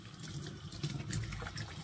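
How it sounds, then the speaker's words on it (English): Radishes are rinsed and scrubbed by hand under a running kitchen tap, a soft close trickle and splash of flowing water with faint rubbing, quiet and brief with no speech. "I'm going to rinse these off really well"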